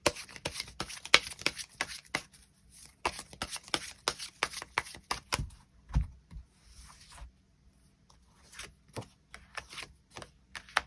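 Tarot cards are shuffled and drawn up close on a tabletop, giving quiet rapid flicks, riffles and soft slaps in uneven bursts with short pauses between them.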